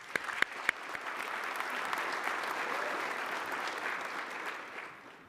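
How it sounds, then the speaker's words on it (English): Audience applause at an HBCU Engineering Deans' Recognition event fills about five seconds with steady, dense clapping from a crowd, opening with a few sharp, louder individual claps. "Please give a round of applause"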